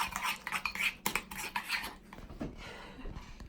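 Cutlery scrapes and clinks against a dish as jam is spooned out for matrimonial bars, a quick run of close clatter in the first two seconds, then softer scraping.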